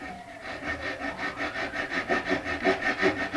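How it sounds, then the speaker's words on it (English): A Japanese pull saw cuts off wooden tabs on a guitar body in a workshop, producing close, rhythmic rasping strokes that grow steadily louder and faster. "This is just a simple Japanese pole saw"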